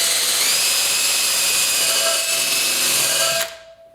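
A power buffer fitted with a fine metal wheel whines steadily as it scrubs rust off a chrome wheel and fender of a 1974 Yamaha RS100 motorcycle, loud and continuous, then winding down abruptly.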